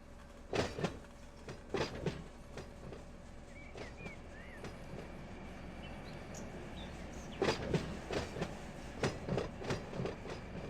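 A train locomotive moves cars through a rail yard: low rumbling with clustered metallic clanks and couplings knocking at irregular intervals, fairly close, with no talk.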